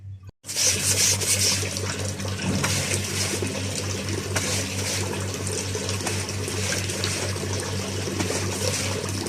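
Clothes being scrubbed with a brush and soap, a continuous wet rubbing and swishing with water noise that runs steadily and close throughout after a brief gap at the start.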